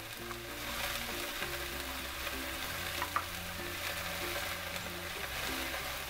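Chopped garlic added to a pan where potatoes and mushrooms are cooking for cream soup, producing a steady, close sizzle and frying hiss with a few soft stirring scrapes and no talk.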